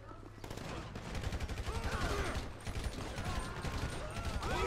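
Rapid bursts of video game gunfire crackle through a dense volley of automatic shots with mechanical clicks, fairly loud and continuous after a brief quieter start.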